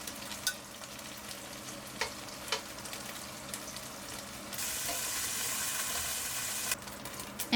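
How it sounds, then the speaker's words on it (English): Duck sausages fry in oil in a pot with a continuous crackling sizzle, punctuated by occasional pops and stirring clatter, and a louder hiss swelling midway before easing back. "Add some oil to a pot and fry the duck sausages for 5 minutes"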